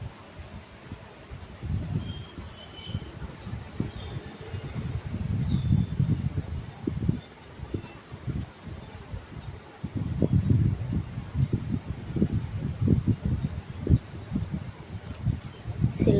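Main fabric being stitched to its lining along the side, likely on a sewing machine, while making a sleeve design: a low, uneven mechanical whirr runs in two long stretches with a brief pause between, steady and close.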